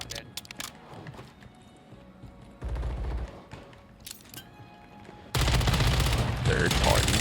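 Gunfire in Warzone 3 striking the player at close range: sharp crackling shots early, then loud sustained blasts of fire and impacts that grow denser and heavier toward the end.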